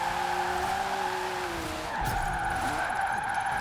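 A Nissan 370Z drifting in Forza Horizon gives off a continuous loud tire squeal over a steady engine drone, the pitch wavering and dipping briefly before the screech resumes, with no talking.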